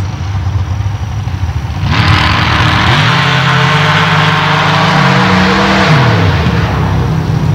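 A modified dirt drag racing truck idles loudly at the staging beams, then launches into a single hard pass at Steelville, Missouri, its engine roaring and climbing in pitch before easing off near the end.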